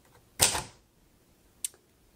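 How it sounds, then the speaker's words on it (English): Keys strike on a pink 1956 Royal Quiet De Luxe typewriter: two sharp, close mechanical clacks about a second apart, the first louder with a short ringing tail, set against a quiet room. "Sorry, I can't type and talk at the same time."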